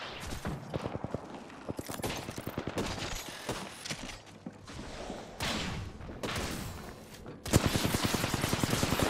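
Video-game gunfire as several players trade shots, with dense bursts of rapid automatic fire and single cracks running throughout, growing louder and heavier near the end; no talking.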